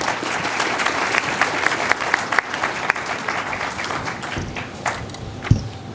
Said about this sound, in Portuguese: para quem eu peço aqui uma salva de palmas